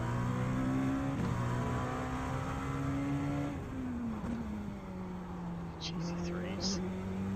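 GT3 race cars lapping the Long Beach street circuit during IMSA practice, engines droning at high revs with pitch shifts as a car passes, then fading, loud and continuous with a voice heard over it.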